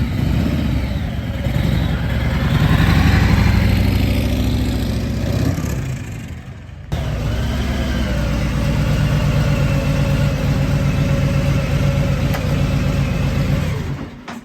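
A Harley-Davidson Softail Sport Glide motorcycle engine runs through a steady, close, low rumble with changes in throttle, and the sound cuts abruptly midway before carrying on at a similar level.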